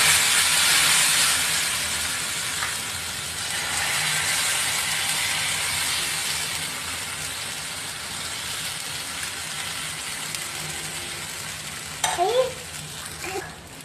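Beetroot dosa batter with raw onion and tomato sizzles on an oiled pan in a bright, steady hiss that is strongest at first and then eases, with a brief clatter near the end.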